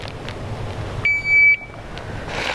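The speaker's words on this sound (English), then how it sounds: "this is what the beep sounds like" A shooting range start timer sounds one sharp, steady electronic tone lasting about half a second over quiet outdoor background noise.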